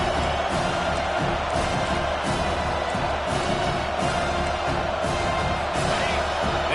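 Stadium crowd at a college football game between Miami and Pittsburgh roars continuously, a dense, loud wash of cheering and noise that holds steady throughout, with faint speech mixed in.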